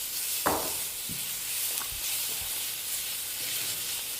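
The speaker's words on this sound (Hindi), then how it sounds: "टमाटर डालने के बाद 2 मिनट तक हमने अच्छे तरीके से भून लिया" Tomato paste for a mixed vegetable dish fries in a pan with a soft, steady sizzle and hiss, punctuated by a few faint stirring clinks.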